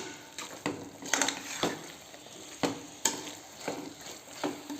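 Vegetables tossed with masala fry in a pan over a medium flame, giving a low steady sizzle broken by several sharp scraping stirs of a spoon against the pan, close and fairly quiet, with no voices.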